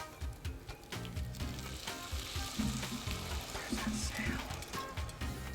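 Garlic, onion and arborio rice sizzle in a pan with a bright, crackling fry, broken by scraping stir strokes and light clatter, heard close and fairly quiet throughout.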